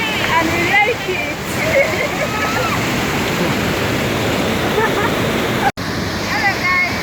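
Aruu Falls in Pajek District, northern Uganda, pours in a loud, continuous rushing roar nearby, with a voice talking over the water throughout and a brief dropout near the end.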